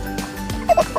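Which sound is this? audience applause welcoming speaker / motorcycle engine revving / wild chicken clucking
wild chicken clucking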